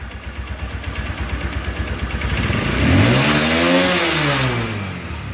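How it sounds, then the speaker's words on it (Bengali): A Runner Turbo 125 motorcycle engine runs after a full rebuild, with the seat and side covers off. It idles with a steady pulsing beat, then revs up loudly and falls back. "বাইকটা স্টার্টে আছে, ইঞ্জিনের সাউন্ড শুনুন।"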